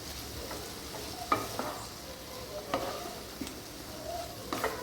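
Chopped cabbage and mixed vegetables fry in a pan with a soft, constant sizzle, broken by several sharper scrapes and clatters as they are stirred, close by and with no talking.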